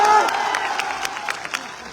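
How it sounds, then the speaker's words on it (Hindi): Political rally crowd in Bihar bursting into loud applause and cheering with claps and shouts, fading somewhat over two seconds as the clapping continues. "इसके लिए जोरदार ताली बजाओ।"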